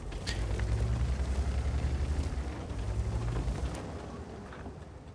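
A WZ-132 light tank in World of Tanks fires a blind shot, heard as a deep, rumbling blast with a sustained low boom that slowly fades over several seconds, with no talking.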